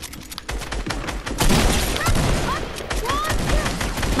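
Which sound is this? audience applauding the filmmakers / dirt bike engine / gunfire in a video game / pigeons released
gunfire in a video game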